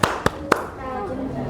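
Children clap the tepuk anak soleh routine in an Islamic religious class: three sharp, evenly spaced claps, loud and close, followed by a brief sung or chanted phrase.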